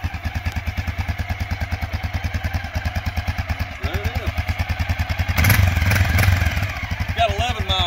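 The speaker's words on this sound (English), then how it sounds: "He just bought him a motorcycle." A new Honda motorcycle rumbles steadily, its engine pulsing in a fast, even rhythm as it passes close by and grows louder, with a brief surge midway and faint voices in the background.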